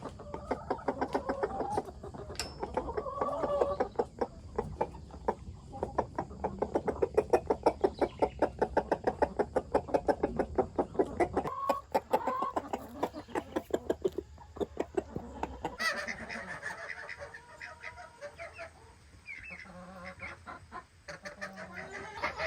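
A flock of Barred Rock chickens clucks in rapid, busy bursts close by, with knocking taps mixed in and a quieter stretch of scattered clucks near the end.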